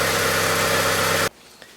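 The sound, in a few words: Honda Civic engine idling after transmission fluid change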